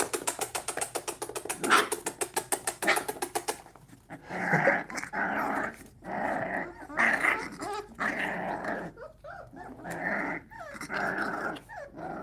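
Puppies from game-bred wild dog stock growl and snarl while play fighting, close and loud. A rapid rumbling growl opens the sequence, then it breaks into repeated throaty snarling bursts with short pauses between them.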